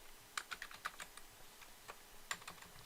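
Quiet computer keyboard key presses, a handful of irregular light taps followed by a pause and another single press.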